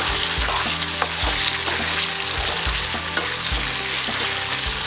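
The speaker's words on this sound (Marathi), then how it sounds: "आपला हलवाचा घट्ट होत जाईल तो आपल्याला हलवत राहायचं आहे" Raw banana halwa thickening in a pan as it is stirred, with a continuous sizzle and rhythmic spatula scrapes repeating about once a second, close and fairly loud.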